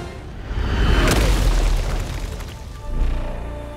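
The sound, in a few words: artillery gun firing in video game Helldivers 2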